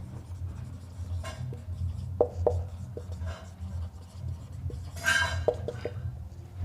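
Marker or chalk writing on a board during a chemistry lesson, scattered short scratchy strokes in irregular bursts over a low room hum, fairly quiet and close.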